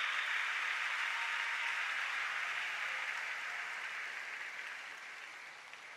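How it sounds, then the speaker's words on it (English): A congregation at a Catholic anniversary Mass in a church claps, a soft, distant, even wash of many hands that slowly fades away, heard alone without voices. "Clap for them."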